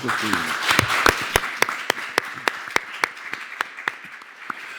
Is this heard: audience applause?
yes